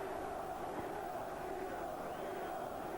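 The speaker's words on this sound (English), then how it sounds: "You can hear the crowd what they think about Saunders shouting Dino, Dino, Dino" A football crowd at a Derby County versus Manchester United match in 1988 chants for Dean Saunders, a distant massed roar of voices with a rhythmic, sustained chanting tone that stays steady throughout.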